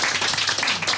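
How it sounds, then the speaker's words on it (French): Applause from a studio audience greeting a guest on a French show, a dense burst of clapping, steady and fairly loud, with no talk over it. "un tonnerre d'applaudissements pour XT"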